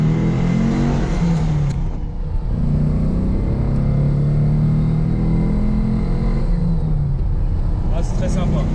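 A Porsche 912 engine rumbles steadily from inside the cabin, a constant low drone with slight shifts in pitch as it drives along.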